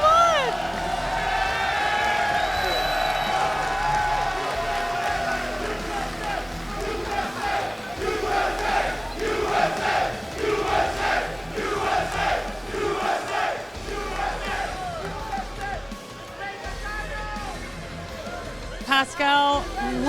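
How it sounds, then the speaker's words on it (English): Crowd at a Yu-Gi-Oh YCS championship finals in Houston, Texas cheering wildly after the tournament victory, a sustained roar of shouts and whoops from a large hall, with voices talking and calling out over it throughout. "This crowd going absolutely wild here."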